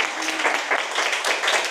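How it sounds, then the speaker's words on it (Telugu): A meditation gathering's audience in Atlanta claps for two guests, a steady wash of many hands clapping together at moderate loudness, with no clear voices. "ఒకసారి వాళ్ళిద్దరికీ గట్టిగా చప్పట్లు కొడదాం"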